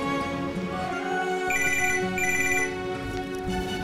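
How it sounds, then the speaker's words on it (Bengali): A phone ringtone plays steadily and clearly during a call, a continuous electronic melody with no talking over it. "তার আগে আবিরকে একটা ফোন করি।"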